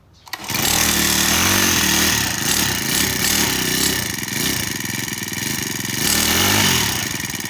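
A four-stroke crop sprayer engine with a freshly cleaned carburetor starts abruptly and runs loud and close, revving up and down in rough, buzzing surges with no talking.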